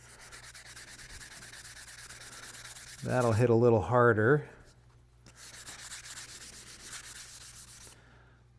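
Steady scratchy hand sanding of fiberglass on a giant-scale P-51D model airplane, a continuous close rasp that runs throughout, briefly interrupted by a short spoken remark before the rubbing resumes.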